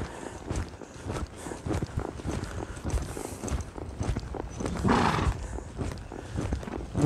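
A horse moves in circles during riding training, its hooves thudding and shuffling in a steady, irregular rhythm close by, with soft rustling and faint breathing and no talk.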